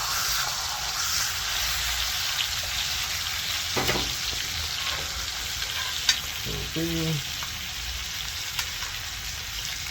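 A steak sears in a hot pan with a constant dense sizzle, broken by a few brief clinks and scrapes as it is turned, with no voices.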